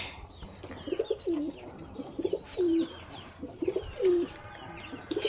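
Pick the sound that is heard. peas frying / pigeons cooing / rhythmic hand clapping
pigeons cooing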